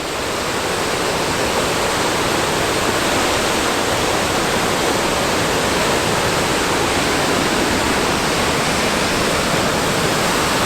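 Strong water rushing along a trail in the outdoors, a steady, loud, dense roar like a small waterfall or fast stream that continues without a break.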